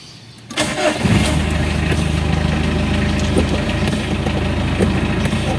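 A car's engine cranks and catches at about half a second, then settles into a steady, loud idle from inside the cabin, with faint clicks over the running engine.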